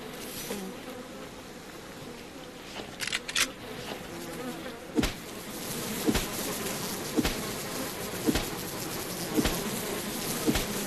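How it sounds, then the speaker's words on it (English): Bees in the survival game Subsistence, a continuous loud buzzing drone that fills the whole stretch, with a few sharp clicks or thuds punctuating it at regular intervals. "Oh, bees."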